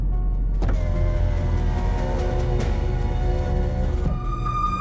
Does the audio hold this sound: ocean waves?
no